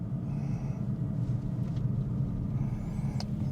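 A plug-in hybrid car reverses on electric power, giving a steady low rumble with faint motor hum, moderately close and continuous, with no one talking.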